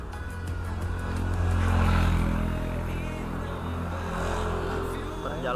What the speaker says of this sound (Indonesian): Kita berangkat dua motor ya.